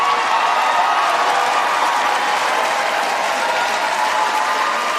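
An audience applauds steadily through a State of the Union address by President Biden, a dense, loud, continuous wash of clapping from a large crowd with no break.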